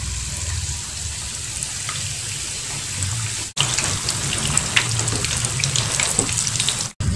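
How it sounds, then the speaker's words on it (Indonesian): Banana and chocolate rolls in wonton wrappers fry in hot oil over medium heat, giving a steady close sizzle and crackle that runs throughout, briefly cut off twice. "Minyaknya sudah panas. Dan kita goreng dengan api sedang aja."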